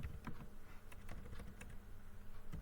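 Quiet typing on a computer keyboard while entering a chart title in an Excel spreadsheet, a loose run of soft, irregular key clicks at a steady low level.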